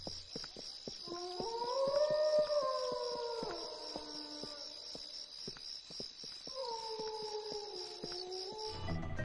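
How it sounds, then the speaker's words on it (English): A long wolf-like howl rising and falling over steady night insect chirping, a second howl following after a pause, heard at night in the Bully video game. "If you head down here during the night time, you can actually hear some howling."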